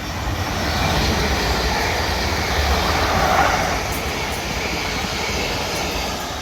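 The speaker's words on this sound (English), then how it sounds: "So I think this is going to Portsmouth Harbour from London Waterloo." Passenger train running from London Waterloo toward Portsmouth Harbour on the South West Main Line at Raynes Park, a steady, fairly close broadband rumble and rush holding at even loudness throughout with no voices.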